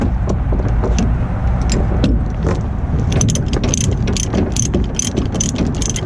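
A ratchet binder is cranked to tighten a chain tie-down securing a truck or SUV on a vehicle trailer, giving loud, close, repeated metallic clicks and clanks over a rough outdoor background.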